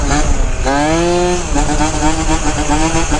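A Malaguti Phantom F12 scooter engine revs loudly and close by, its pitch rising sharply and then falling back before climbing again in a steady, buzzy two-stroke whine.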